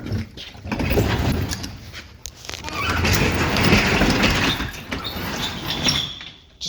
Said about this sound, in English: I'm actually going to open this door.